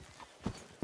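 Horse hooves clop twice in a video game, two close, heavy hoof falls spaced about a beat apart over a quiet background.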